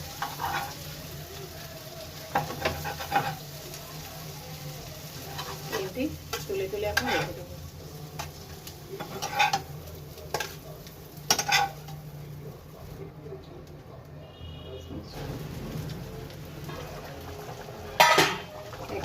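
Food fries in a pan at home with a continuous sizzle, broken by repeated clinks and scrapes of a utensil stirring and turning it, close and fairly loud.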